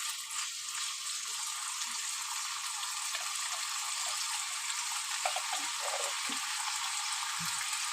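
Potatoes frying in oil in a pan, giving a steady, even sizzle that runs for the whole stretch at a moderate level with no voices over it.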